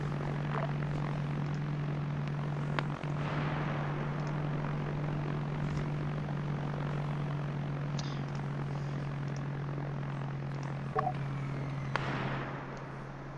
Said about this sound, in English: I'm going to do a plane flyby.